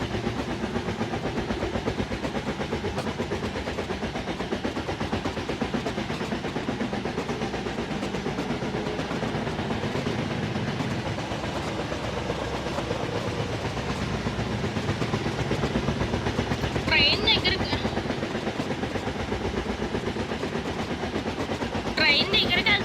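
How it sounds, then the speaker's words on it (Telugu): A train rolls close by with loud, steady rattling and rumbling that fills the whole stretch, and two brief bright hissing bursts come near the end. "ట్రైన్ దగ్గరికి వెళ్తుంటే గట్టి సౌండ్ వచ్చేస్తుంది"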